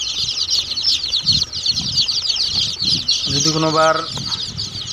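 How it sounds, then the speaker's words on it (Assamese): A crowd of local chicken and duck chicks cheeps continuously in high, rapid chirps close by, with someone talking over them in short bursts. "এইটো অৰিজিনেল লোকাল মুৰ্গী হয়"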